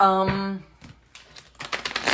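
Tarot cards being shuffled by hand: after a brief spoken bit, a soft pause gives way to a quick, ragged burst of riffling, papery flicks toward the end, fairly close.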